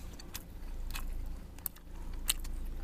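Several crisp, crunchy bites and chewing noises close up, spaced irregularly over a low background hum.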